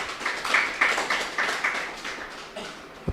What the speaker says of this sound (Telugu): మన గురువు అయిన పత్రి సార్కి ఒక్కసారి గట్టిగా క్లాప్స్ కొడదాం